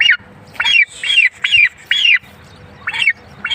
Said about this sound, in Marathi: ही मादी ही टर्कीची मादी